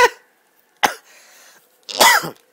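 A man coughing three times into a close microphone, sharp bursts separated by short pauses, the last one harsher and longer, with no talking between them.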